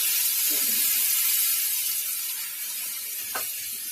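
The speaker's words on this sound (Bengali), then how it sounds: "দিয়ে মশলাটাকে ভালো করে কষিয়ে দেবো।" Ground turmeric, chili and cumin fry with water in a pan for a vegetarian paneer and vegetable dish, giving a steady close sizzle and hiss with a couple of faint stirring scrapes and no speech.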